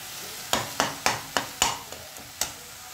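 Curry leaf paste sautéing in a pan, a soft steady sizzle broken by about eight distinct scraping stirs at a fairly even pace, close and moderately quiet, with no talk.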